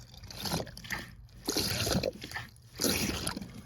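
Water gushing under pressure out of a drain trap during a plumbing call, coming in three strong splashing bursts with brief gaps between them, heard close and with no talking.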